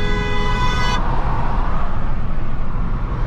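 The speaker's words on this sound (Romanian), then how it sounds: "I-am dat un claxon" A car horn gives one steady, loud honk on a road, lasting about a second, over the constant rush of driving and traffic noise inside the car.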